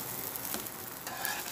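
Jalapeño pupusas fry on a hot griddle with a steady, soft, broadband sizzle and faint crackles, close and quiet, with no talk.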